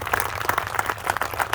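A crowd at an outdoor motorcycle rally presentation gives a round of applause for park rangers and police, dense clapping with scattered sharper claps over a low background rumble.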